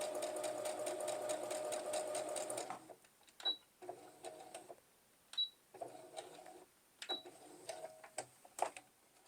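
A sewing machine stitches a quarter-inch quilt seam in scrap fabric, guided by a seam-allowance presser foot; a steady, fast mechanical whir runs for about three seconds, then gives way to short separate bursts of stitching with quiet gaps between.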